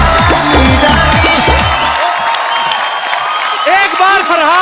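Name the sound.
studio audience applause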